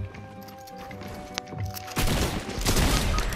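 Enemy gunfire aimed at the player in Fortnite, a single sharp crack followed by a loud close burst of rapid shots in the final second and a half.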